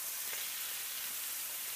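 A soft, steady sizzling hiss of chicken frying in a pan, continuous and fairly quiet with no voices.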